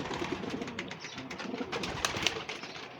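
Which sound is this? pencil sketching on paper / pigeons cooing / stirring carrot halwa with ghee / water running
pigeons cooing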